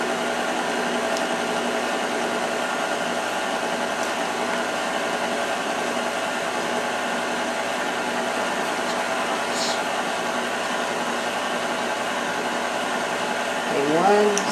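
An ice cream maker churning butter pecan ice cream with pecans mixed in, giving off a steady mechanical hum with tonal whine that holds evenly throughout, close by and unbroken.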